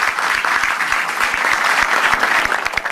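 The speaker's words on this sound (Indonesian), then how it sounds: "Ya, tepuk tangan." A studio audience on an Indonesian television talk show claps steadily and fairly loudly for a full stretch, with dense overlapping hand claps that stay even throughout and no voices on top.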